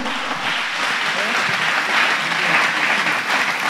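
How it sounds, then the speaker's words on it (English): A church congregation applauds, a dense, sustained clapping that fills the room and swells slightly toward the middle. "Clap your hands beautifully for Master Jesus Christ."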